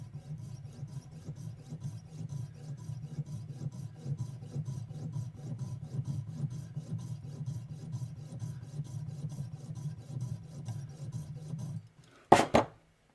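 Jeweler's saw blade cutting in a steady rasping rhythm, close and continuous for about twelve seconds, then stopping, followed by a brief sharp clatter.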